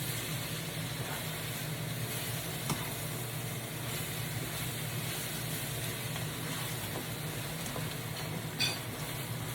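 Bitter gourd (ampalaya) frying in a pan, an even, constant hiss of sizzling with a couple of faint clicks from stirring, steady throughout.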